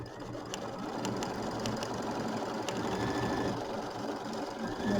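A sewing machine runs steadily, stitching a tack-down line on a Kimberbell mini quilt with foam stabilizer, giving a continuous close, even motor whir and needle patter for the whole stretch with no talking.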